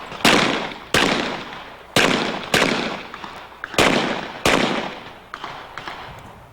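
Pistol shots ring out at an IDPA shooting competition, seven sharp loud reports at a measured, steady pace, each with a decaying echo, followed by a couple of smaller clicks and knocks.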